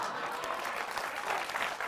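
An audience claps continuously, a dense, even patter of many hands at moderate loudness with no break and no one speaking over it.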